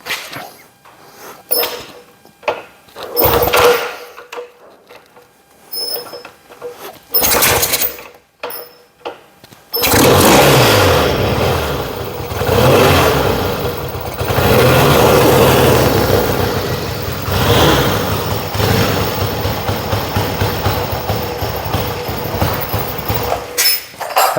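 A Yamaha XS1B motorcycle engine starts after a few sputtering attempts and settles into a steady, loud idle with a mechanical rattle, close by and without talk.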